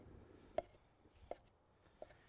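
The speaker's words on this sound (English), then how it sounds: "I'm going to start chopping these tomatoes" A knife chops through heirloom tomatoes on a cutting board, three faint separate thunks spaced evenly apart in a quiet kitchen.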